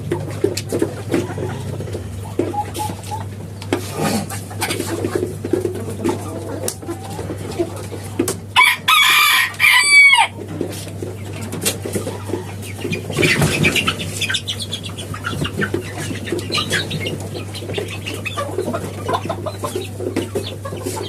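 Chickens clucking and cooing around a poultry operation raising fancy-breed chicks, including Malaysian Serama birds, with scattered calls over a steady hum and a brief louder burst of activity midway.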